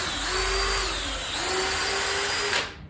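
A power drill driving screws into a wooden sawhorse whines steadily at close range, its pitch dipping briefly mid-run before spinning down at the end.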